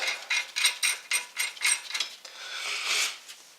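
A 13mm spanner turns a lug nut onto an M12 wheel stud during a wheel stud replacement, producing a quick run of close, rhythmic metallic clicks followed by a longer continuous grinding rasp.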